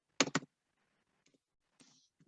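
A few keystrokes on a computer keyboard with a sticky 5 key: a quick cluster of sharp clicks, then scattered faint taps, close and quiet.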